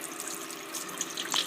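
Juice is poured out of a can of chicken, a soft, close trickle of liquid with a few small splashes near the end, with no talk over it.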